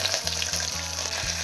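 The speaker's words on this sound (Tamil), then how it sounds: "பச்சை மிளகா போடுறேன், வெடிக்கும்." Green chillies crackle and sizzle in hot oil tempered with curry leaves and dal for rice upma, a steady close frying hiss with small pops and no talking.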